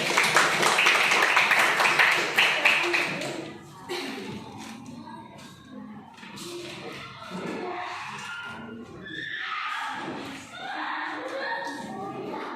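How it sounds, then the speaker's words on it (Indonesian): Students clap together in a classroom, a dense, loud burst of hands lasting about three seconds that then stops, followed by murmuring children's voices and shuffling around the room. "Kita tepuk tangan dulu."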